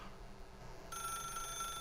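An old-style telephone bell in the Stanley Parable rec room starts ringing partway through, a steady bright electronic ring over a low ambient room hum.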